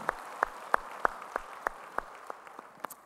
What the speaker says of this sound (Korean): 우리 찬양받으신 주님께 영광의 박수 올리겠습니다